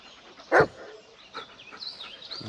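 A dog in the Blair Witch video game gives a single sharp bark, close and short, then soft rustling, whimpers and faint birdsong follow.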